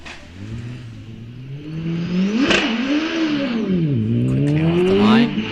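A 1300cc supercharged Empire Evo 2 hillclimb car launches hard off the start line, its engine revving up through rising and dipping pitches as it accelerates, loud and close.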